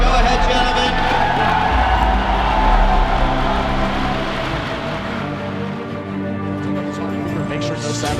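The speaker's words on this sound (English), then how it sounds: "please help us usher these players into the playing area with a large round of applause." Crowd at the Hearthstone World Championship 2014 esports event cheers and applauds the players as they enter. The sound is a loud, dense, sustained roar that fades slightly toward the end.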